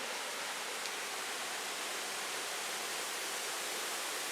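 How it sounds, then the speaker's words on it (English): A forest stream or waterfall rushes loudly and steadily, a dense unbroken roar with no voices over it. "Oh, you can hear the water. It's so loud."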